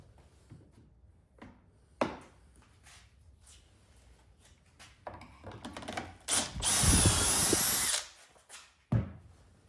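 A power drill drives screws into cabinet panels for a mobile bandsaw cabinet, a loud steady whir lasting about a second and a half, preceded by scattered knocks and clunks from handling the wood.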